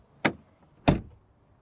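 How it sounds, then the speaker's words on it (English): Car door of a 2026 BMW X3 SUV shut twice, two sharp solid thuds about half a second apart, close and fairly loud, with brief resonant tails and no talking. "Door closing sounds,"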